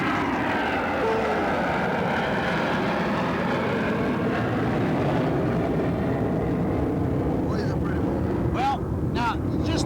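Propeller or jet planes drone loudly and continuously over a river where bass are biting, a heavy steady roar with wind buffeting the microphone.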